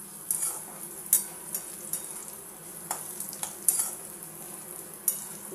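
Sliced bitter gourd frying in oil in a wok, a steady low sizzle broken by occasional sharp clicks and taps of a utensil against the metal, quiet and close.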